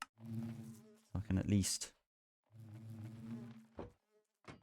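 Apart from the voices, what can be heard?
bees buzzing in a video game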